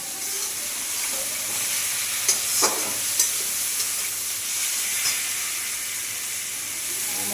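Pabda fish simmers in a mustard-paste curry in a pan, giving a soft continuous hiss and bubbling with a few light utensil taps, close and fairly quiet, with no one talking.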